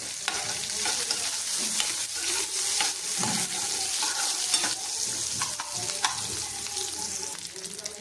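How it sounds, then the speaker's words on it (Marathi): Chopped onion and crushed garlic cloves sautéing in a hot pan, a steady broadband sizzle with repeated scraping and stirring clicks throughout, close and fairly loud, no voices. "साधा कांदा टाकायचा आहे बरोबर लसणाच्या त्या पाकळ्या होत्या ठेचून घ्यायच्या आहेत त्या पेस्ट नाही करायची आहे थोडं परतून घ्यायचं"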